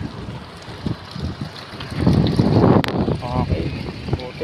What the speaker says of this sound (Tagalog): Okay, buti humangin.